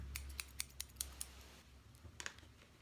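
A series of sharp, quick scissor snips cutting cloth tape, about seven in a row and then a couple more after a pause, close and fairly quiet, with no voices.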